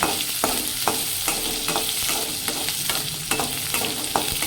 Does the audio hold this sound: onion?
yes